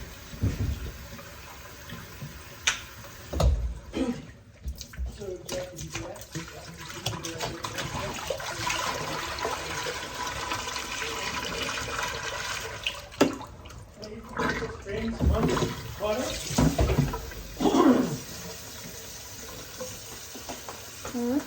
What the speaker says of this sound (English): we're refilling water